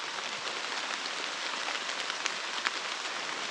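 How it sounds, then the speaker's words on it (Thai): Rain falls steadily in a dense, even hiss with a few sharper drops popping out, constant and close, with no one talking. "แต่ฝนนี่น่าจะเซายาก"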